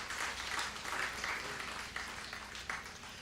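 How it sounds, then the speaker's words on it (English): Audience applause at a tribute event honoring a music icon, a sustained wash of many hands clapping, fairly loud and even, gradually tapering toward the end. "a round of applause"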